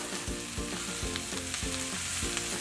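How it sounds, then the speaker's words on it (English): Peppers and mixed vegetables stir-fry in a hot pan, a loud continuous sizzle broken by regular scraping and tossing from stirring, with no voices. "all we're doing is stir frying or sauteing"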